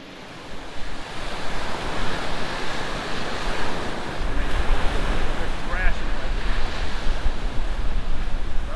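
Ocean surf rolling onto a Gulf Coast beach at Pensacola, Florida, a steady broad wash of breaking waves with gusts of wind buffeting the microphone, growing heavier partway through.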